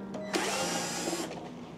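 A power screwdriver whirs steadily for about a second, close and moderately loud, while it backs out a screw from an appliance side panel during a repair.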